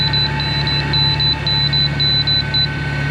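Short electronic beeps repeat irregularly over a steady low hum, several chirps in quick succession, fairly clear and close.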